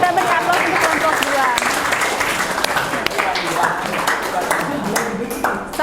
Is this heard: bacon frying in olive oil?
no